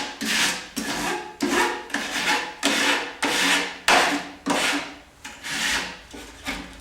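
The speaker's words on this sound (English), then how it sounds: "we can use our rasp again to clean up the edges of the drywall" Rasp filing along the cut edge of a drywall sheet, about eleven steady back-and-forth scraping strokes, close and fairly loud, with no talking.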